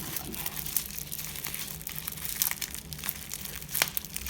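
Close crinkling and crumpling of a small tape-wrapped package being pulled open by hand, continuous rustles broken by sharper tearing snaps, no talking.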